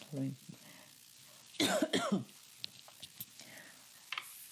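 A single harsh cough bursts out close to the microphone, followed by soft clicks and small mouth sounds in a quiet room.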